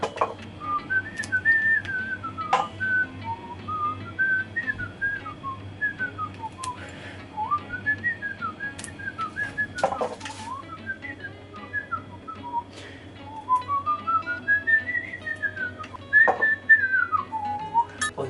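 A person whistles a wandering tune, clear pitched notes rising and falling with brief gaps, close and alone over a low steady hum.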